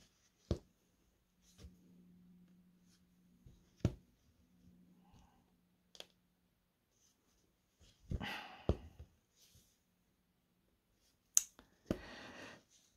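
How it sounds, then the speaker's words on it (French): A female dog barks in a home during a quiet cross-stitching session, giving a few sharp, separate barks and short bursts spread across the clip, with soft rustling and a faint low hum in between. "La chienne va aboyer."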